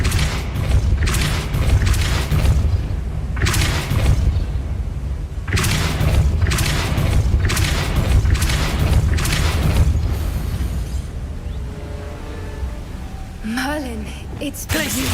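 Depulso spell impacts land in Hogwarts Legacy as repeated deep booms and thuds over a constant low rumble of game sound, with a few fainter tonal effects near the end.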